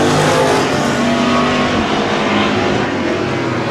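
Race cars roaring around the track at Cotton Bowl Speedway, a loud dense engine drone with cars accelerating and passing, continuous throughout.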